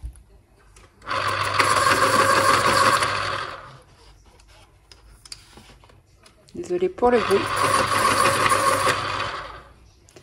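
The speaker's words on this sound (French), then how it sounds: "mes crayons sont parfaitement taillés" An electric pencil sharpener grinds pencils in two loud bursts of a few seconds each, separated by a quiet pause, with someone speaking briefly between them.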